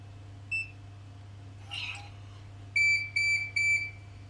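A Kerong card lock emits three short, identical electronic beeps in quick succession, clear and close, after a single brief beep and a faint rustle earlier, over a low steady hum.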